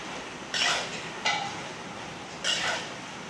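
Boiled pasta is stirred into red sauce in a pan, with three scraping, clattering utensil strokes against the pan over a steady background hiss.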